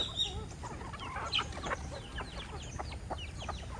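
Several chickens cluck and chatter close by, short throaty calls overlapping in a busy flock over a low background hum.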